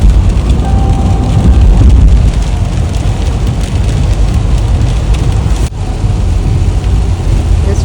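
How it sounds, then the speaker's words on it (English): Steady rain keeps falling all day on a 52-degree Sunday morning walk, making a continuous loud hiss and patter with no pauses, and no one talks over it. "It's been raining all day,"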